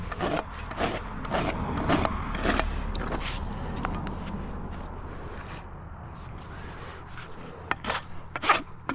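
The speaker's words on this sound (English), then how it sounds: "I'm going to pull up on the rasp." A rasp works across a mini pony's hoof in a run of rhythmic, rough scraping strokes, close and fairly loud at first, then a quieter pause before a few more strokes near the end.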